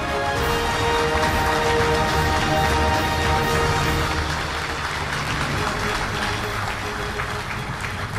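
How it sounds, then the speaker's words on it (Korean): Audience applause fills a large outdoor Armed Forces Day ceremony after a government awards presentation, a steady dense wash of clapping that holds throughout at an even level and thins slightly toward the end. "오늘 영예로운 후보장과 대통령 표창을 수상한 개인과 부대에 다시 한번 축하와 격려의 박수 보내주시기 바랍니다"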